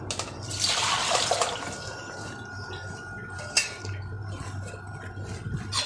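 Water splashes and pours for a moment as orange peels are strained, then trickles and drips quietly against a low background hum, with a single soft clink partway through.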